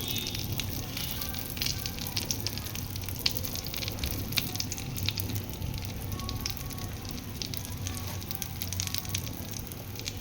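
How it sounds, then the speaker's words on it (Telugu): Bitter gourd pieces coated in salt and chili powder fry in hot oil with a steady, dense sizzle and crackle that holds at an even level throughout. "ఇవి దగ్గరుండి ఒక్క 2 minutes ఫ్రై చేసుకుంటే సరిపోతుంది"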